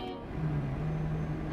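A truck horn sounding in the TruckersMP driving game, one steady low honk held for over a second above a constant engine drone.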